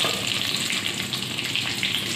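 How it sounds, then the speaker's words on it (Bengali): Eggs frying in a pan give a loud, dense, continuous sizzle that crackles steadily throughout, close to the microphone and with no speech. "তো ডিমটা আমার অনেকটাই ভাজা ভাজা হয়ে গিয়েছে,"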